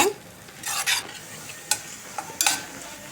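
A paste of grated coconut, onion and green chilli fries in a pan, with a soft sizzle broken by several scraping stirs and clinks of a spatula, close and fairly loud, and no voices.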